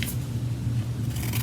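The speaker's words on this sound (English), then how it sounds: "You can use these 5-blade scissors and cut you some confetti." Five-blade scissors snip through packaging to make confetti, giving a steady close crunching and rustling texture with no talk.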